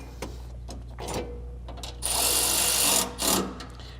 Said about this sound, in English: we are going to take our 14 millimeter and we are going to tighten it